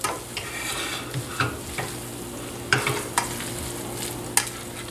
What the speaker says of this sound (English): Toss that in with my pasta.